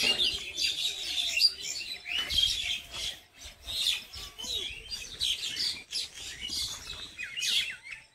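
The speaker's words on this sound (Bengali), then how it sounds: "সকালবেলা দেখতে পারতেছেন এই শালিকের ক্যাচার মেচার" Morning birdsong: common mynas chattering busily with dove calls mixed in, a dense, continuous stream of chirps and squawks at moderate distance and no talking.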